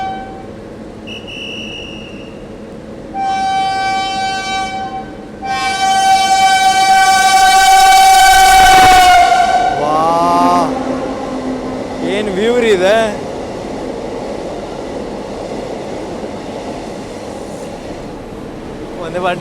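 A train rumbles along the tracks in snowy Jammu and Kashmir, with loud sustained horn blasts rising and fading over the steady rolling noise.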